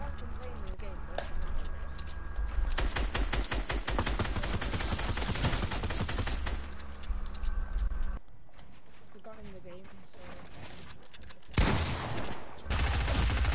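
Rapid SMG bursts from a PS4 shooter game ring out in dense, loud clusters, mixed with game effects and player voices talking over them.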